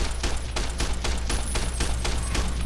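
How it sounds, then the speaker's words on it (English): Rapid automatic gunfire from a service rifle in the Fallout: New Vegas video game, a steady run of about ten loud, evenly spaced shots over a constant low rumble, with no talking. "The service rifle's putting in some work."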